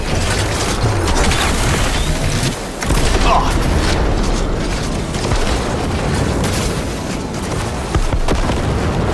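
Missile explosions from the Cyberpunk 2077 game, a dense, continuous rumbling barrage of booms and bursts at loud, steady level with a brief dip midway.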